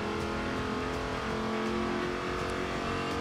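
Bowler off-road racer engine in Forza Horizon 2, a steady loud roar with rising revs as it drives through city streets, no talking over it.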